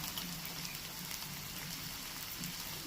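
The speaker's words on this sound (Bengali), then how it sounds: "দেখো পেঁয়াজ আর নারকেল ভালো করে ভাজা হয়ে গেছে" Onion and long shreds of grated coconut fry in a pan for a prawn and coconut dish, a faint continuous sizzle and crackle with no talk over it.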